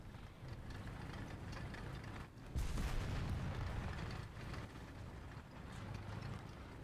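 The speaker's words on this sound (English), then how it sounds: "I can already hear tanks coming" Tank engines approaching in War Thunder, a low steady rumble with rough mechanical churn and a heavier swell partway through, fairly distant and continuous, with no talk.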